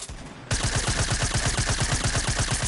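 Rapid automatic gunfire in Fortnite, a steady run of sharp, evenly spaced bursts that starts abruptly after a brief quieter stretch and keeps going loud to the end.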